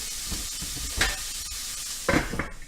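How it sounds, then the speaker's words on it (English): Carrots and other vegetables for a mock lobster linguine sizzle in a hot pan, a steady close frying hiss broken by a few louder bursts of stirring and scraping. "Yeah, get that on a nice sizzle going."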